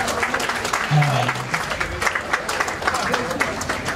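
Applause from an audience at a chieftaincy conferment ceremony, a steady patter of many hands clapping throughout, moderately loud, with some voices and a brief low tone mixed in.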